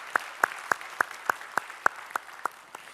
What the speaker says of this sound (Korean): 우리 찬양을 받으실 우리 주님께 영광의 박수 올리겠습니다